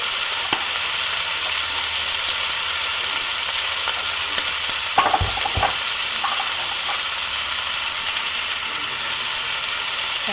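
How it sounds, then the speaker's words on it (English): Celery and carrot stock simmering on the stove gives a steady, close, bubbling sizzle that runs the whole time, with a few soft clinks partway through. "I have the celery and carrots. That's on a good simmer."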